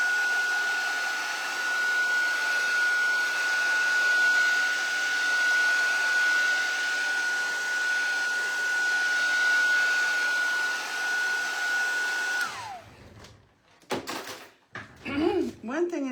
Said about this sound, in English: And I'm going to hit this with a little heat